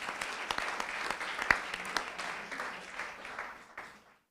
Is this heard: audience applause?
yes